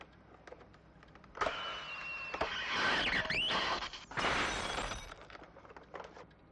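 Glass shatters under a prototype infrasound device, heard as loud, broad crashing bursts in two main waves over a few seconds, with a scraping, ringing quality between them.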